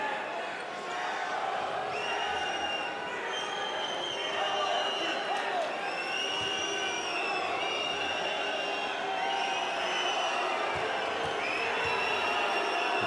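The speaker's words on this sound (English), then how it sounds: "this crowd pulling for the Italians here, making a little bit more noise" A basketball arena crowd at a FIBA EuroBasket 2022 quarter-final between France and Italy keeps up a steady, distant roar with scattered ball bounces and a commentator talking over it.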